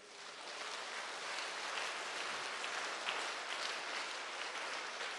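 Faint, steady clapping from a congregation at a Christian prayer service, a continuous wash of hands heard from a distance and holding an even level, with no talking on top.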